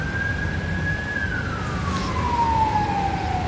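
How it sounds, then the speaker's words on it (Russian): Ambulance siren on an Istanbul street, a loud continuous wailing tone sliding slowly downward as the vehicle passes over steady traffic noise, with no talk. "Сигналят, потому что скорая помощь едет"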